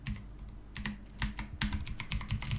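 Steady clicking of OKER K545 mechanical keyboard keys, a quick irregular run of presses close by with no voices.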